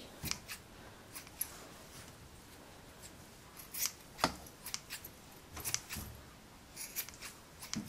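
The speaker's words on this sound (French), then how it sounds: "Si on a des petits brins de laine qui dépassent comme ça, il suffit tout simplement de les couper." Scissors snip stray strands of wool in a quiet room, a series of sharp, close, irregular cuts separated by short pauses.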